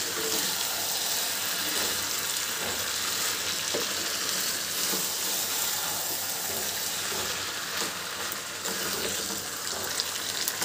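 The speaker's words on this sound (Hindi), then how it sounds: "कि सारी स्पैगेटी को मैंने डाल दिया है, अब मैं इसे मिक्स कर रही हूँ।" Boiled spaghetti fried and mixed in a pan for spicy chicken spaghetti, producing a continuous loud sizzle with stirring and tossing noises throughout, no speech.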